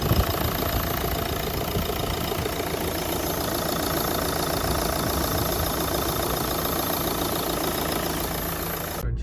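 A 2013 Renault Megane 3 with a 1.5 K9K diesel engine idles steadily and continuously, a low even rumble with no talk over it.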